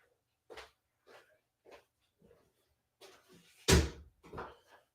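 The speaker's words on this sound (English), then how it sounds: "I'm just shutting the door real quick." An indoor door is shut with a single sharp bang near the end, after a few soft thumps and shuffling noises, close by in an otherwise quiet room.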